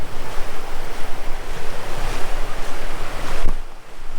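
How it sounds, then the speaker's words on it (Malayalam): Thooval waterfall in Idukki, Kerala, heard from nearby as a steady roaring wash of falling water with gusting wind noise on the microphone, loud and continuous. "നമ്മളിപ്പോൾ വെള്ളച്ചാട്ടത്തിൻ്റെ അടുത്ത് വന്നിട്ടുണ്ട്."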